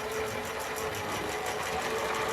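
A Hornby model train locomotive, an old set rescued from a wet leaky shed, runs over points into a station with a steady, close, whirring motor buzz and no talking.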